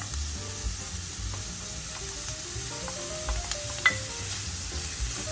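Green onion frying in a pan for a Colombian chickpea and tripe stew: a steady close sizzle with soft scraping stirs and a sharper tap near the end, no voices.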